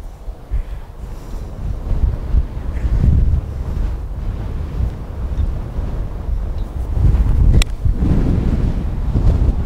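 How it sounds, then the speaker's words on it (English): Strong wind buffets the microphone outdoors in a steady, loud low rumble with gusty swells and no voices. "It's just so strong, that wind. Incredibly strong."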